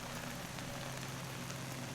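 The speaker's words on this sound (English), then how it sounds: "then the skies opened up and it started to rain" Steady rain falls on a lawn in a garage setting, a constant soft hiss and patter that stays even throughout with no voices.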